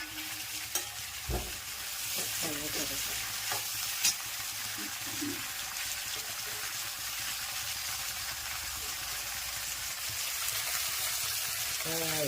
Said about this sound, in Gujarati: અહીંયા દાળ વઘારાય છે, એક બાજુ શાક ચડે છે.